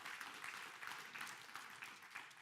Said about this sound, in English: And just to give that a round of applause for that.